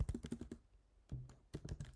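Code typed on a computer keyboard: quick bursts of close keystrokes, a brief pause, then a second rapid run of taps, clear and fairly quiet with no speech.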